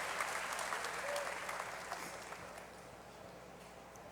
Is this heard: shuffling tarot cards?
no